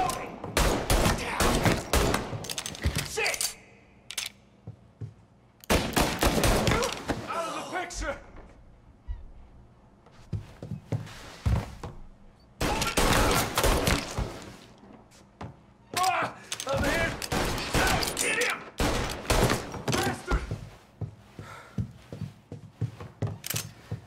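Semi-automatic weapon gunfire in Mafia Definitive Edition: repeated clusters of sharp shots in several separate bursts with pauses between, loud and close, and a voice talks in places between the volleys.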